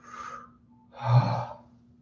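Two slow, relaxed breaths with no talk, a softer airy breath followed after a short pause by a longer, fuller exhale released close to the mic.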